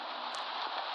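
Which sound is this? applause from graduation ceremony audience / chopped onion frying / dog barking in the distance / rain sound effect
rain sound effect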